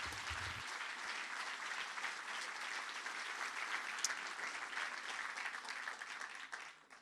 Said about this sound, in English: Pas mal, vos applaudissements.